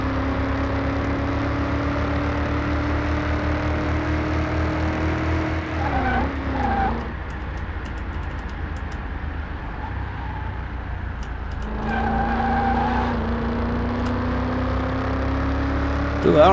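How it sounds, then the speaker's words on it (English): Virtual car tires skid and squeal through a drift in the Car Mechanic 2021 game, a steady engine drone with a rising squeal that breaks off mid-clip and then returns. "Drifting."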